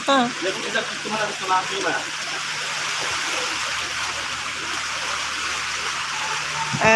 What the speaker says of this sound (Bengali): বৃষ্টিটা একটু কমতেছে